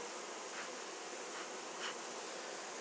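Honeybees from a swarm hum in a soft, continuous drone, with a few individual bees buzzing closer past the microphone; faint and steady with no talk.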